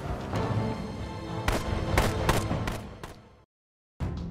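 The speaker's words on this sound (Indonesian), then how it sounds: "Lee ditembak sampai tewas" Several loud gunshots ring out in a tense film scene where a man is shot dead, sharp blasts over a dense music-and-effects bed before a sudden silence and another burst.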